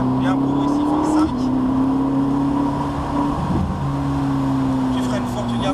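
A Ferrari 458 Italia engine drones and rises steadily in pitch as it accelerates in fifth gear on a race circuit, with a brief dip between gears, loud and close.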